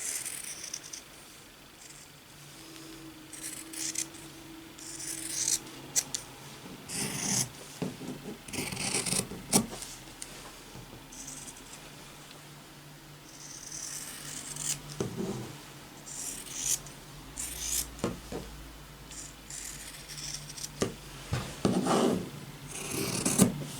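Scissors cut through PUL waterproof fabric in soft, intermittent snipping and rustling strokes. The sound is close and faint, with irregular pauses as the material is shifted and trimmed.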